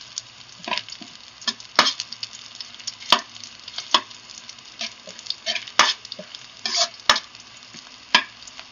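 Pork adobo being stirred in a frying pan, irregular sharp scrapes and clacks of the spoon over a light sizzle, close and uneven, with no speech.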